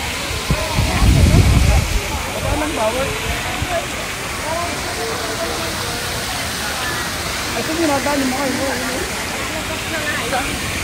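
Fountain water splashing steadily in St. Peter's Square at the Vatican in Rome, a broad continuous wash of falling water with a louder low rumble near the start, with crowd chatter and voices faintly in the background.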